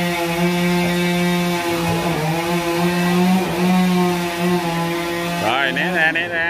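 A chainsaw works on a huge Ba Dau tree outdoors, its engine holding a loud, steady drone before the pitch shifts and climbs near the end.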